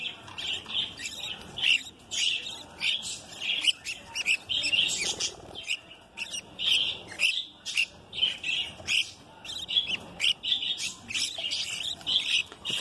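Budgerigar chicks in a nest chirp and squawk in rapid, shrill bursts, close and continuous, with short pauses between clusters of calls.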